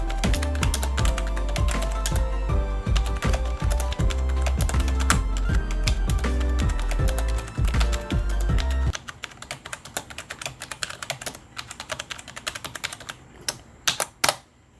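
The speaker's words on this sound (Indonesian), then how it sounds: "Nah, kita coba feel ngetiknya." Keys clatter on an NYK KR 301 RGB computer keyboard in fast, steady typing close to the mic over a low background hum, then slow to sparse, scattered taps.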